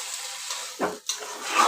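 Rice grains frying in leftover beef fat for a Bangladeshi biryani give off a soft, steady sizzle, with one brief scrape of stirring in the middle, close by and with no talk.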